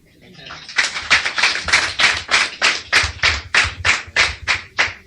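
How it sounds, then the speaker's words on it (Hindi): An audience claps in rhythmic unison at a motivational business seminar, a run of about fifteen loud, evenly spaced beats building up after a soft start. "ताली बजाने इनके लिए"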